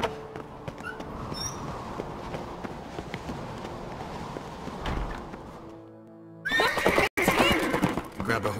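A horse in The Witcher 3 whinnies and gallops amid game ambience and music, with character voices talking over much of it and a loud burst of hoofbeats and noise near the end.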